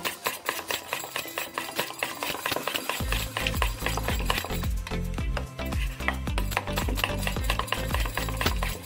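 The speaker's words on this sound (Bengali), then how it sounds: "1 চামচ কর্নফ্লাওয়ার দিয়ে নিচ্ছি, আর একটুখানি দেবো, দিয়ে খুব সুন্দর ফেনিয়ে নেবো" Egg mixture with cornflour whisked briskly in a bowl, quick rhythmic clinking strokes that grow fuller and steadier partway through, close and alone without talk.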